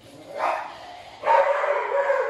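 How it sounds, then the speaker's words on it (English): A dog barks in a few loud, close bursts, with a short pause between the first yelp and a longer run of barking; nobody speaks. "If you keep on barking, I swear to Obi-Wan Kenobi."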